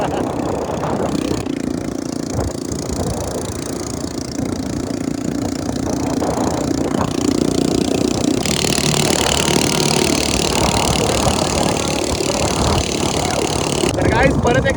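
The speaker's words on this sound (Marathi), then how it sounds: "हा विषय आपल्या भाऊची गाडी आहे, भाऊने मॉडीफाय केलेली आहे, सायलेन्सर तोडलेला आहे" A modified motorcycle with its silencer removed idles and revs with a harsh, loud, continuous rumble, while people talk over it.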